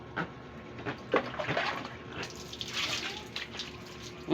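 Tap water running and splashing during washing, a steady broadband rush with uneven gurgles and surges, fairly close and moderately loud, with no talk over it.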